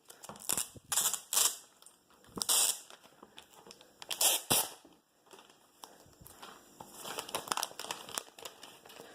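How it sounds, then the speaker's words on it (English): Protective plastic film being peeled off a new 6th-generation 2018 Apple iPad, giving loud, close crinkling and crackling bursts that come in several separate pulls, then softer rustling toward the end, with no talking. "Now comes the most satisfying moment of peeling the plastic."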